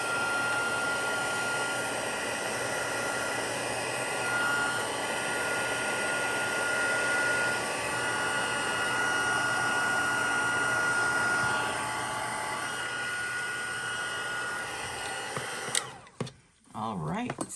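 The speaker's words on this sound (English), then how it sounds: "We're going to turn on our machine, and we're going to heat up that heat and powder." A heat embossing tool blows steadily for about fifteen seconds while heating heat and stick powder for gold flakes, then switches off near the end.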